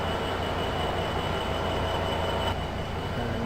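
A Surfliner passenger train idles at a San Diego-line station in a train simulator, a loud, continuous engine rumble and hiss with no talking.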